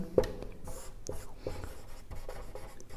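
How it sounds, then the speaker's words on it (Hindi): Chalk or marker writing on a classroom board during a Hindi-language genetics lesson, a few short scratchy strokes and taps spread irregularly over a few seconds, close and clear with no talk. "तो लिखते हैं, इसको कैसे लिखेंगे"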